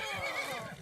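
A single short horse whinny in the video game Skyrim, faint and quick, with a trembling tone.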